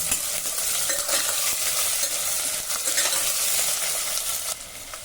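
A medium onion hits hot oil for spiced tempered khichdi, giving a loud, continuous sizzle with scraping stirs that eases slightly at the close.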